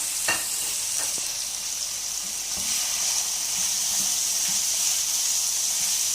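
Finely chopped capsicum and cabbage fry over high heat for chicken macaroni, giving a bright continuous sizzle close up, with a few light spatula knocks near the start.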